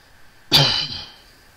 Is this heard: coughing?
yes